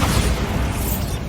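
A Bombarda spell blast in Hogwarts Legacy, a short deep booming explosion that rumbles loudly and fades quickly.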